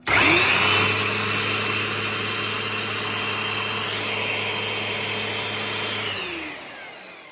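A 1.6 kW electric string trimmer powered from a portable power station spins up abruptly into a loud, steady motor whine, holds for about six seconds, then winds down and fades.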